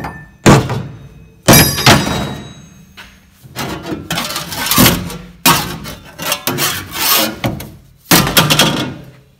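Random workshop tools get chucked into a DIY ute tub liner, landing with a string of loud, hard thuds and clattering bangs at uneven intervals, some followed by brief scraping rattles.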